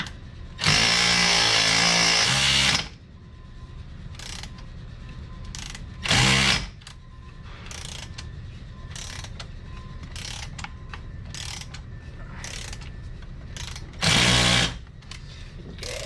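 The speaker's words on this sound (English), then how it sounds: "I don't think the ratchet's gonna be able to take care of the torque on these" A ratchet wrench works on bolts during disassembly of a 2006 Sea-Doo Sportster 150 jet boat, giving scattered sharp clicks across the clip and a few loud, broad bursts of noise, with no talking.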